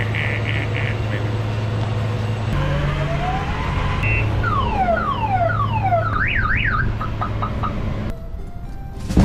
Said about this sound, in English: Sounds like a 90s alarm.